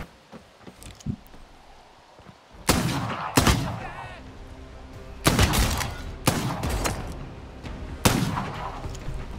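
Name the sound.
gun firing in the video game Bloodhunt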